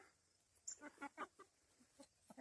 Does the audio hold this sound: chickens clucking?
yes